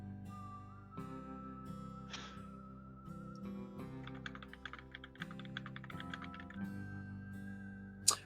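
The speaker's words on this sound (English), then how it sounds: "It's because it's the mechanical keyboard." Quiet rapid clicking of typing on a mechanical keyboard during an online tabletop game session, bursts of keystrokes under a steady hum and occasional tones, faint and close.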